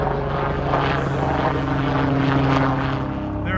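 Helicopters flying over Queens Village on the day of guest arrivals for the Ryder Cup, a loud, steady engine and rotor drone that swells slightly in the middle, with no voices.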